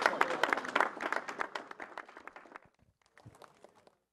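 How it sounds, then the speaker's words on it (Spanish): Crowd at a bridge inauguration in Puerto Inca bursts into applause, clapping loudly at first and then thinning out, stopping briefly before a few scattered claps trail off. "Un aplauso para él."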